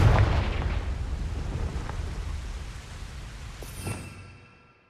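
A Confringo explosion spell in a Harry Potter video game bursts with a heavy, close boom at the start, then a rumbling tail that slowly fades out.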